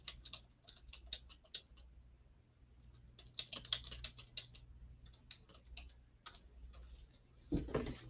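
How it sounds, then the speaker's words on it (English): Fingers type on a computer keyboard in rapid bursts of close, crisp key clicks separated by short pauses, with no talking, ending in a couple of heavier taps. "I'm typing."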